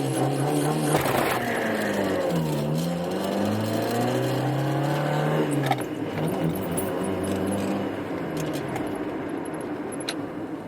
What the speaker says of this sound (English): I just got the car running.